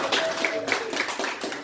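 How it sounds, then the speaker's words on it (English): A church congregation claps in steady, fairly dense applause that fills an indoor hall, heard close and continuous without a break. "Applause for Tim in particular"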